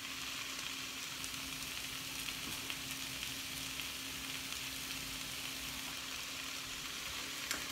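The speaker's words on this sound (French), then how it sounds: "Maintenant, on va laisser dorer les oignons" Thin mandoline-cut onion rounds sizzle steadily in a pan, a constant dense frying hiss with faint crackles throughout, close and even, no talking.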